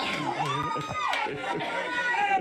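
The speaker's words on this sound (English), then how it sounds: "one more clip that Handsome Robert pulled of the crowd saying goodbye to him" A crowd shouts and cheers a goodbye together, a dense, loud wash of many voices with whoops rising and falling over a couple of seconds.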